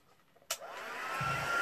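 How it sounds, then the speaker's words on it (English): An embossing heat gun switches on with a sharp click and starts blowing, its steady airy whir building in loudness as it dries paint on a mixed media layout. "Right, then I'm going to get my heat tool."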